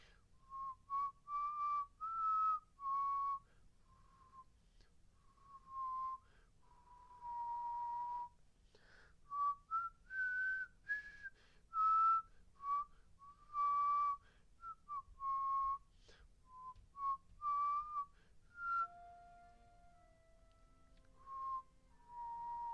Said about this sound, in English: I could probably whistle this